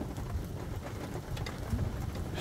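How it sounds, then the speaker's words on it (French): Hailstones fall during a thunderstorm in a dense, steady outdoor patter, with low rumbling underneath and no clear separate strikes, filling the whole stretch at an even level. "il y a des grêlons qui sont tombés là."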